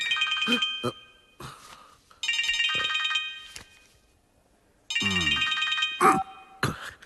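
A phone rings with a bright electronic ringtone in repeated bursts with gaps between them, close and fairly loud, as a gangster calls during a comedy scene, with voices briefly breaking in among the rings.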